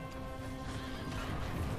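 In the Heroes of the Storm video game, a horse neighs loudly over a busy backdrop of hoof clip-clops and game effects, one long whinny filling the moment.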